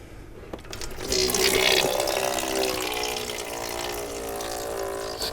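Hot engine oil draining from the sump of a BMW R1200 GS motorbike into a drip tray, heard as a continuous close pouring and splashing of liquid that starts abruptly and keeps flowing steadily.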